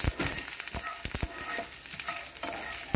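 Green chilies roasting in a hot pan for vada pav, a steady sizzle and crackle broken by sharp scrapes and stirring knocks, close by and with no talk.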